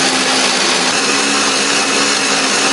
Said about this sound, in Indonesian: Aku menghaluskannya menggunakan blender, beri sedikit air ataupun minyak juga boleh